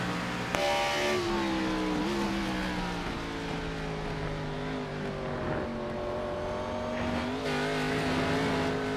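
NASCAR stock cars racing at Watkins Glen International, engines droning and shifting pitch as cars pass, with a brief sharp transient near the start, distant-to-moderate and continuous without speech.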